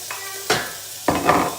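Garlic, onion and herbs drop into hot oil in a pan for a steak dinner's peppercorn sauce, producing two sharp bursts of sizzling as each batch hits, with the frying crackle lingering close by.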